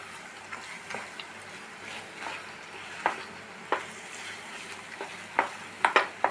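Sweet made from gram flour and coconut milk with ghee cooking in a pan, a low bubbling sizzle broken by repeated sharp spoon taps and scrapes against the pan, growing more frequent toward the end.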